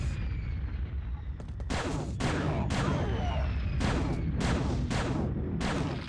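Rapid shots and explosions in Quake II punch out in a rhythmic series of sharp, loud blasts over a continuous rumbling low background.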